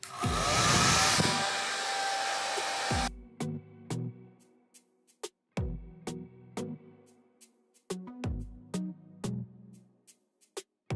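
A hair dryer set to warm on its lowest speed blows as a steady whoosh for about three seconds, then cuts off, leaving a run of sharp clicks and brief thuds from nearby handling.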